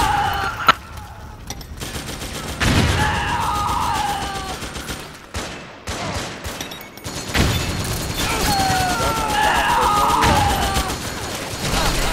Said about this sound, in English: I got bullets flying at me